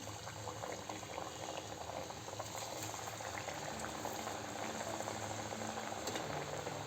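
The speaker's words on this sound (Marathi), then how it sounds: "तेल गरम झालेलं आहे यात आपण वडे घालू" Sweet corn vadas deep frying in hot oil make a dense, even bubbling and crackling hiss that holds steady from start to finish, close and without any voice.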